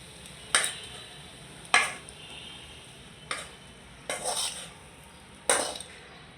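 A utensil scrapes and clanks against a pan while fried leafy greens are lifted out, five distinct metallic knocks spaced about a second apart over a quiet background, close and fairly crisp, with no speech.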